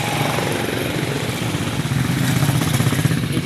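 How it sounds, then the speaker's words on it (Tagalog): A motorized pedicab rumbles past close by, its engine a loud, steady, throbbing drone that holds for a few seconds with no voices over it. "Pedicab og motor"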